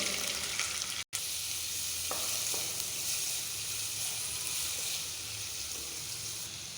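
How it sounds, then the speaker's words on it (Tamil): Steady close sizzling of onions sautéing in hot oil with cloves, green chillies and curry leaves, a continuous crackling hiss with a brief break partway through. "வெங்காயம் பாதி வதங்கினதும்"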